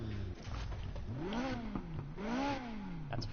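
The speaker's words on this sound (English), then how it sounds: "That's a GTR engine." Nissan GT-R engine in the Need for Speed Heat racing game, revving in two rising and falling sweeps, loud and close with no talk over it.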